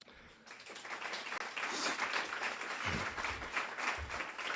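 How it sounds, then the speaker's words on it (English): Graduation audience clapping at a guide dog school ceremony, continuous dense applause from a crowd, fairly soft and distant in tone, with a few low thumps. "Just take a couple of minutes to clap for yourself"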